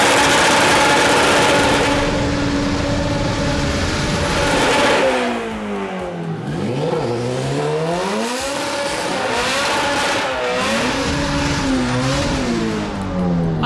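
A loud Mazda RX-7 rotary engine revving hard during burnouts to break in a new differential in a shop, pitch swooping up and down repeatedly as the tires spin, continuous and close.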